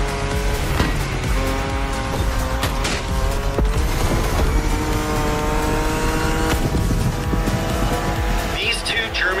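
German race cars in a street race, with engines roaring continuously and tires squealing in repeated loud bursts, close and intense from start to finish.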